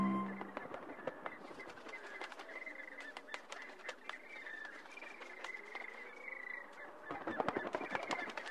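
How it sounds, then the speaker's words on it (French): A large flock of flamingos at high altitude calls in a faint, distant chorus of overlapping honks and nasal cries, with scattered sharp notes rising toward the end. "les flamands, les oiseaux au plumage de feu"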